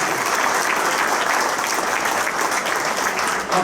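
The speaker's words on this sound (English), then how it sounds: "Can we have a nice round of applause" A hall of fame ceremony audience at Memorial Hall in Jim Thorpe gives loud, steady applause. The dense clapping fills the whole stretch without a break and tapers only at the very end.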